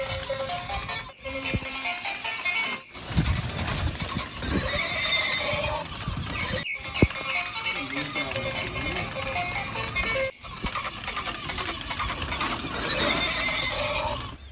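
A horse neighs and whinnies repeatedly while hooves clip-clop steadily for a horse cart ride, loud and close, with brief gaps between bursts.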